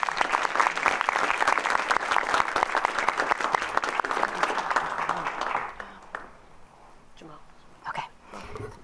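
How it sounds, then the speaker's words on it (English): Board of education meeting audience breaking into a round of dense, loud clapping that lasts several seconds, then fades out abruptly into a quiet room with scattered small noises. "I think they deserve another round of applause."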